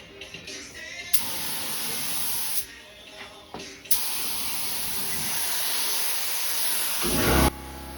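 Gray Rust-Oleum spray paint hissing from a can onto a coat, several steady bursts of loud airy spray separated by short pauses, the last ending abruptly.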